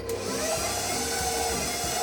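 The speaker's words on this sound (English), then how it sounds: "We're gonna mix this up really good until it's nice and creamy, and I'm just using my regular paddle attachment." A stand mixer with a paddle attachment creams butter and sugar in a bowl, giving a steady close motor whir with a rhythmic low churning throughout.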